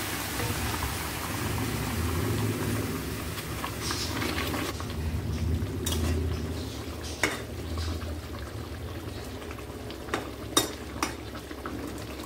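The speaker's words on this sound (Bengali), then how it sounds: "এবার এটা ভালো করে ফুটবে।" Chicken curry boils in a pot with added water, giving a steady soft bubbling hiss, and a few sharp utensil clinks ring out near the end.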